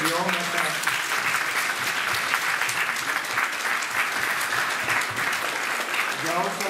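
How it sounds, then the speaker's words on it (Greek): An audience at a stage performance applauds warmly, with dense, steady clapping that sustains evenly throughout, while a voice is faintly heard near the start and end. "σας αξίζουν πολλά θερμά χειροκροτήματα"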